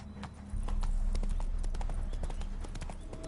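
Roach the horse's hooves clip-clop at a steady walking rhythm in a video game, close and fairly loud, with a brief quieter stretch before the steps grow fuller and continue throughout.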